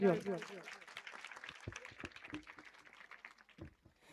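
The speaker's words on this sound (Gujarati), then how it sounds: "એક વખત જોરદાર તાળીઓથી વધાવી દો।" Audience applause at a Bhaktidham Ramamandal devotional performance in Surat, a dense patter of many hands clapping that follows a voice at the start and fades slightly toward the end.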